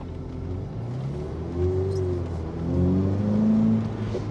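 A Ferrari F8 Tributo's exhaust rises and falls through light throttle blips, its engine note climbing in pitch then easing back, heard clearly from close range with no talking.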